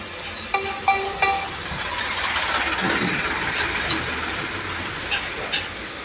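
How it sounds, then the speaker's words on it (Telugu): Masala for horse gram curry fries in a pan with a steady, close hissing sizzle, punctuated by a few light clinks of a utensil against the pan. "ఇవన్నీ పచ్చివాసన పోయేంత వరకు బాగా వేయించుకోవాలి"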